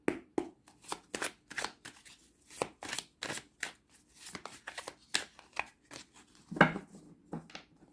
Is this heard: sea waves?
no